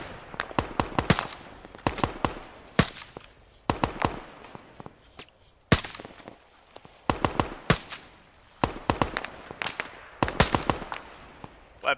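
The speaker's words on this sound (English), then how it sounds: "weapon cook off." Ammunition cooking off in Arma 3: SOG Prairie Fire, a crackling run of sharp pops and bangs in uneven bursts and clusters, loud and close, with brief pauses between volleys.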